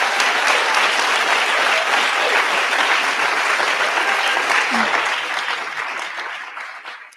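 Audience applause at a public talk and conversation event, sustained and full-bodied across the hall, steady at first and then gradually fading out toward the end, with no voices heard over it.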